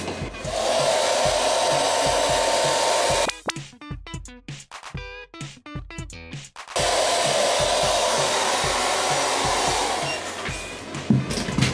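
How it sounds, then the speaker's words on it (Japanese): A hair dryer drying long hair after a bath blows with a loud, steady whooshing roar, cutting off for a few seconds of brushing and rubbing sounds before starting again, close to the listener. "4分経ったんで髪の毛を乾かしていきます。"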